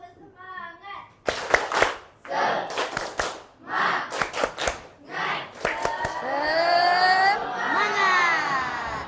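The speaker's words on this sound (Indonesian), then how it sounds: "mari kita tepuk semangat dulu" A classroom of children chant together and clap in sharp bursts of rhythmic hand claps, voices rising into a loud sustained group shout near the end.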